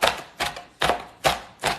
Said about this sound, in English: I'm just chopping up my bacon for my potato skins.